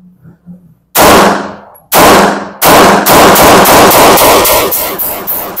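Loud, close gunshots from a Sarsılmaz SAR9 SP pistol: two single shots, then a quick string of rapid shots, each with a sharp crack and ringing tail.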